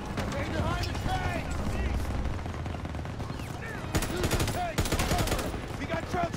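In Call of Duty WW2, MG42 machine guns fire steadily through a battlefield scene alongside advancing tanks, with rapid bursts of shots mixed with voices and distant combat noise.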